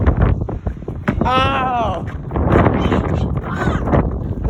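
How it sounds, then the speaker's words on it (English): A gust of wind on a windy day in southern Kansas rumbles across the microphone in a steady blustery roar, while a voice rises in a sudden stretched exclamation and other people talk loudly over it. "Comes a gust."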